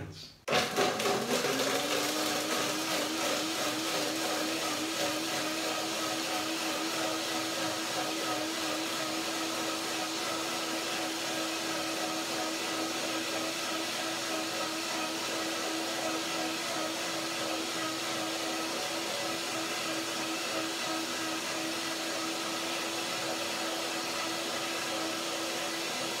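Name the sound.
blender blending apricots, lime, almonds and water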